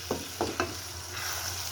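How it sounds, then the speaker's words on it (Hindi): Gajar ka halwa of carrots roasted with sugar in a pan, a quiet low sizzle under three quick spatula scrapes in close succession, then a fainter steady hiss, with no voices. "इसको हम एक दफ़ा फिर बहुत ही अच्छी तरह भूनेंगे चीनी के साथ"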